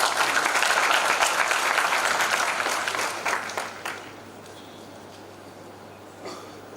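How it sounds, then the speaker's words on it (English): A conference audience at the National Safe Motherhood Conference in Munyonyo claps in a dense, sustained burst of applause that tapers off sharply after about four seconds, leaving a quiet room with faint scattered claps. "A second round of applause"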